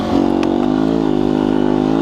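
A 2019 Beta 125 RR S two-stroke dirt bike revs hard while being ridden, a loud close buzzing engine note climbing briefly then holding steady.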